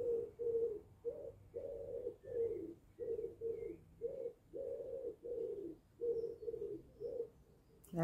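A pigeon coos in a steady rhythm of about a dozen soft, low, throaty calls, fairly faint and a little distant, with quiet background ambience and a few faint chirps from other birds.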